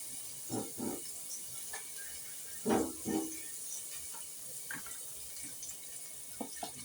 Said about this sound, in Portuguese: Um pouquinho de água.